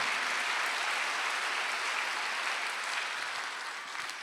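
A church congregation claps together during a Sunday worship service, a dense, steady wash of applause that holds at full strength and begins to fade slightly near the end, with no talking over it.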